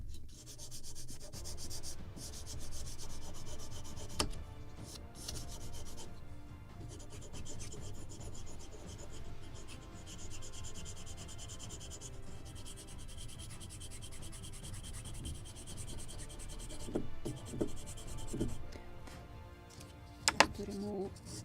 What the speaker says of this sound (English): And now I will use a different sandpaper, 400 or 320, I don't remember.